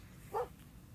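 A single short bark from a dog at a poolside lounger, brief and moderately clear over a low ambient background.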